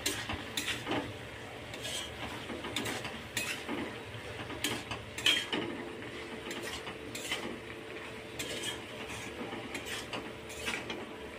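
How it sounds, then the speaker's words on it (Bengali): A spoon stirs vegetables with poppy seeds in a pan, giving soft repeated scraping and light sizzling at a steady rhythm, close and fairly quiet with no talk. "পোস্তটা দিয়ে আমি এবার একটু নেড়ে ছেড়ে নেবো"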